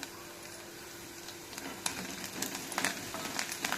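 Onions with curry leaves, turmeric and a little salt fry in a pan, giving a steady close sizzle with scattered sharp crackles and pops that grow busier toward the end. No one speaks.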